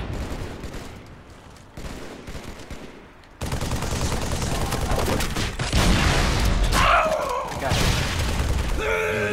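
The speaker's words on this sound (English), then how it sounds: "Yes! Yes, my grenade! I fucking blew up those little pallets and he fell to his death." Grenade explosion blowing apart pallets in the video game H3: quieter gunfire gives way to a sudden loud, close blast, followed by sustained heavy rumbling battle noise.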